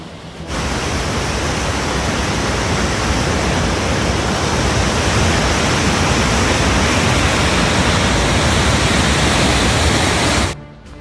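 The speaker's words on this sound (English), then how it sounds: "there's a constant sound of waterfalls throughout the town" Constant roar of waterfalls around the fjord town of Geiranger in Norway, a dense steady rushing wash that fills the whole clip evenly without pause, then cuts off abruptly near the end.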